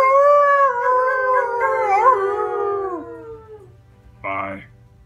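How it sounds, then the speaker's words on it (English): A dog or wolf howls in a long, wavering, gradually falling cry lasting about three seconds, loud and close, followed by a brief yelp-like burst. "Random howling."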